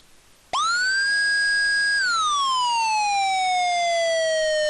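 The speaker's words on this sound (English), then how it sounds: "You can also preview siren tones before making a selection." A CenCom Carbide emergency siren tone plays as a preview, bursting on abruptly and loud, holding a steady wail before gliding downward in pitch.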